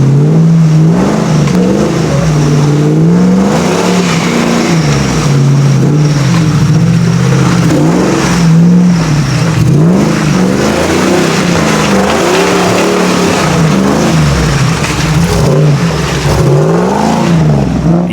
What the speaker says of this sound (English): The LS 4runner making light work of that one.